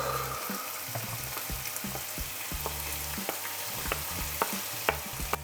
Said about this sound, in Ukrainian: Зашкварчав.